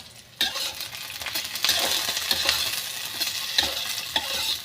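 Chili chicken ingredients fry and get stirred in a pan over low gas, a soft continuous sizzle broken by scraping spatula strokes and light clinks, with no talking.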